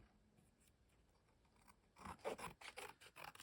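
Scissors cut along the edges of paper coloured with Caran d'Ache pigments. After a near-silent start come a quick run of close, crisp rasping snips.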